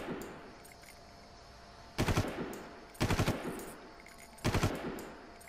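Automatic gunfire in the PC game Far Cry, three short loud bursts of rapid shots about a second apart, each a quick rattle of several rounds over a low ambient hum.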